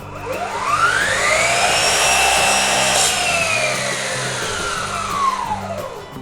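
A Bosch GCM 18V-305 GDC cordless sliding miter saw cutting with dust extraction switched off, loud steady high whine from the spinning blade as it slices through the workpiece, pitch sweeping up and then falling away as the cut finishes.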